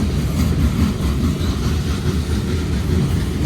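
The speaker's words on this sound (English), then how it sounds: "But these are all your lumber cars." Steady low rumble of a Union Pacific freight train of lumber cars rolling by nearby in North Platte, cars clattering past with a faint rhythmic clack.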